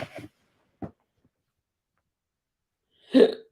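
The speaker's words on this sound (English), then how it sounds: "Excuse me, I get the hiccups." A single sharp hiccup bursts out loud and close near the end, after a couple of faint, short vocal sounds and a stretch of near silence, from a person speaking during a live talk.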